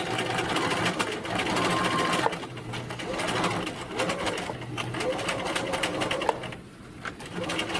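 A sewing machine stitches a French seam in sheer chiffon fabric, its steady mechanical whir running continuously and close with brief pauses, while a person speaks over it.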